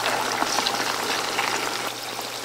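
Tofu cubes frying in a pan of hot oil, a dense steady sizzle and crackle of bubbling fat, close and continuous with no talking.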